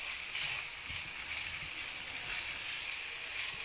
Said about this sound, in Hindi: प्याज डाले हैं तकरीबन 2 चम्मच भर के चॉप प्याज, और इसको मीडियम टू स्लो फ्लेम पे पकाना है हमें